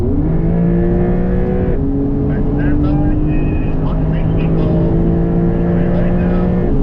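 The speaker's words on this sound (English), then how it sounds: "Now accelerate smoothly, here we go, let's go." A Porsche 911 GT3 accelerates with a loud, steady engine drone whose pitch climbs through gear changes, heard from inside the car beneath a driver's talk.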